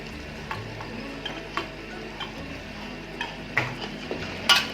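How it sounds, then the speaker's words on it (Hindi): Boiled rice tumbles onto sizzling masala for Sindhi biryani, a steady frying hiss with scattered light scrapes and taps of a spoon on the pot, all fairly close. "ये हमारे राइस चले गए अपने मसाले के ऊपर, और फ्लेम को मैंने तेज़ कर दिया है।"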